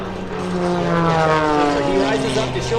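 Aerobatic biplane engine at an airshow, a steady propeller drone with rising harmonic tones, loud and continuous throughout.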